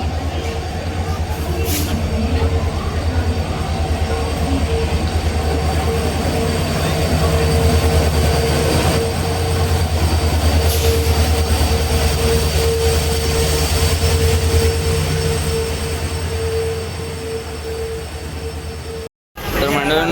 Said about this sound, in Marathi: तर आपली ट्रेन आलेली आहे आता.